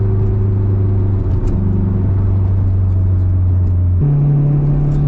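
Boosted turbo K24-powered AWD Acura RSX Type S pulling in second gear at part throttle, a steady loud engine drone from inside the car with a pitch step up near the end.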